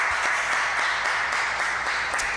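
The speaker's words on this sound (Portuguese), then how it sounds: "Salva de palmas para o Senhor Jesus." Church congregation applauding at the close of a sermon, steady moderate clapping from a group with individual claps standing out, lasting a couple of seconds without a break.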